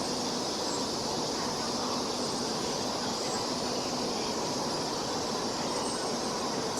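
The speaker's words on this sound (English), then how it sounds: "here comes the train. The train's pulling in." A high-speed train rumbles into a station close by in China, a dense continuous roar of wheels and motion with a faint high squeal, holding steady throughout.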